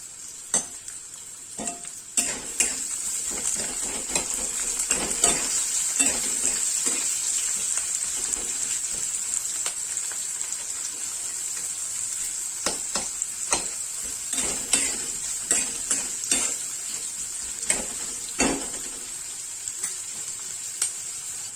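Onion, carrot and corn kernels sautéing with peanuts in a pan for Maharashtrian masale bhat, a steady bright sizzle under repeated clattering scrapes and knocks of a spoon stirring, close and without talk.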